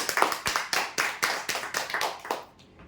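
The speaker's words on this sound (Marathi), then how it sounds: "जोरदार टाळ्या होण्यासाठी." Audience clapping at a prize draw ceremony for customer lucky-draw winners, a steady series of sharp, close hand claps in a regular rhythm, fading out near the end.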